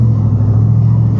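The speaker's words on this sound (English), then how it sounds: "this pickup truck sounds like he's got turbo power" At a drag strip, a turbocharged pickup truck's engine gives off a loud, steady low rumble. It is heard up close and alone, with no voices.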